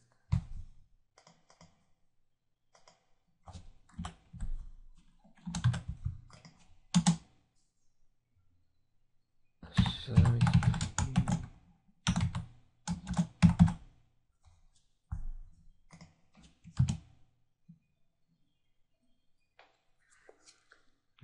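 Typing on a computer keyboard while logging into a web admin interface: irregular bursts of close, crisp key clicks with pauses between, one denser flurry in the middle, no talking.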